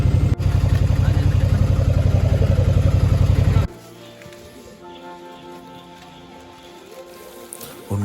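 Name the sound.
heavy rain pouring down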